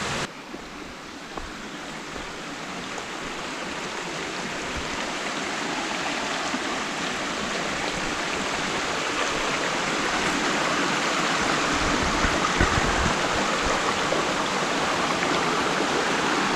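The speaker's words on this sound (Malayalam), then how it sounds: "അപ്പോൾ ഇവിടെ നിന്നാണ് അങ്ങോട്ട് വെള്ളം ഒഴുകി വരുന്നത്" Irinchayam waterfall pours over large rocks in a steady, dense rush of water, close and continuous, slightly building in loudness with no other sounds standing out.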